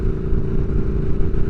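The loud aftermarket exhaust of a 2022 Triumph Speed Twin with a rebuilt engine drones at a steady, close, low rumble while riding. Wind noise blends in and no one speaks.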